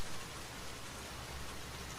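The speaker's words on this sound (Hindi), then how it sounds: "बारिश की बूंदें जमीन पर गिरकर तालाब जैसी आवाज कर" Heavy rain falls steadily on the ground around a village gathering spot, a dense, unbroken hiss of drops that stays loud and even throughout with no voices.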